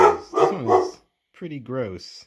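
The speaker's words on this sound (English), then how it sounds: "Oh, that's my dog." A pet dog barking indoors, a few close yips and barks in quick succession with a person talking alongside.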